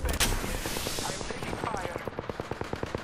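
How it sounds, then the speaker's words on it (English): Automatic gunfire in Apex Legends, a fast string of sharp shots that ends in a steady, evenly spaced burst, heard near and fairly loud under other in-game clatter. "I'm taking fire."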